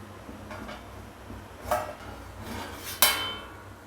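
A metal lid clinks down onto a pan of boiling raw bananas, two short clattering knocks close by over a faint steady background, with no talking.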